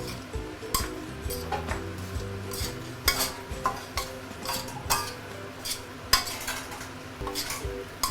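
Ginger and aromatics being stir-fried over high heat for a pork leg stew, with a spatula scraping and clinking rhythmically against the pan every half second or so over a soft sizzle, close and steady.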